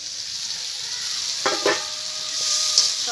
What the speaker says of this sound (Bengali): এখন এই টমেটো কুচিটা দিয়ে দেবো।